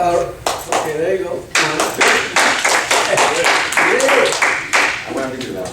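Audience clapping at a club meeting, a run of sharp, separate claps with irregular rhythm, nearby and fairly loud, mixed with talking voices and laughter.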